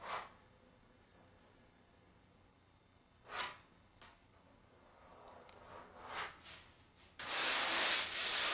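Hand sanding on a fiberglass molded model fuselage gives soft, intermittent rubbing strokes, faint and scattered at first, then a loud, steady scraping stretch at the end.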